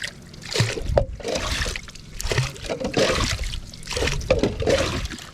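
Water is bailed out of a small fishing boat that has a leaking hole, heard as repeated pouring and splashing scoops coming in regular bursts about once a second, close and moderately loud.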